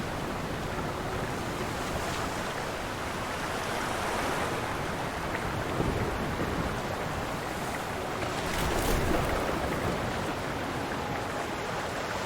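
Storm waves in the turn-based survival strategy game Diluvian Winds, a steady, loud wash of surf and wind roaring continuously, swelling slightly near the end.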